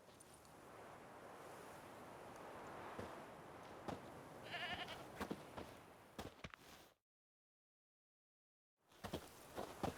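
A goat bleats from a stake where it is tied as bait in The Witcher 3, its calls rising over a constant wash of wind or surf, before everything drops to silence for about two seconds.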